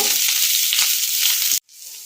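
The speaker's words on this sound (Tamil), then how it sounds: "வெங்காயத்தை ஆட் பண்ணிக்கலாம். பச்சை மிளகாய் ஆட் பண்ணிக்கலாம். இதை நல்லா வதங்கட்டுங்க." Onion, curry leaves and green chili sauté in a pan with a steady, close sizzle and some stirring, which cuts off abruptly near the end before a quieter tail.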